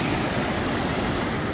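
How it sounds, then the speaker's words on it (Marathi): A river pouring over a semicircular man-made weir, a steady, dense roar of rushing water close by with no pauses or voices. "तर ही वरून वाहते नदी"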